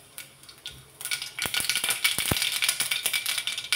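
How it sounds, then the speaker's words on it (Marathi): Mustard seeds crackle and pop in hot oil in a kadhai. After a quiet start, rapid sharp snaps break out and keep going densely close by. "मोहरी छान अशी तडतडली की"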